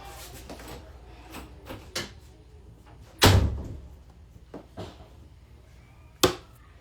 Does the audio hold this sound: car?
no